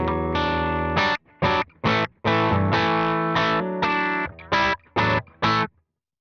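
Electric guitar played through a Vibro King amp model on a NUX Trident, distorted sustained chords and short stabs in a choppy rhythm with brief gaps, loud and alone.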